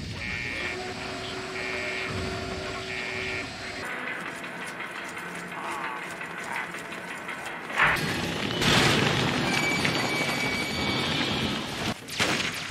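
Gunfire in Fallout 3 crackles through a dense game soundscape, starting with a steady low rumble and swelling into louder, rapid bursts of shots and booms in the second half.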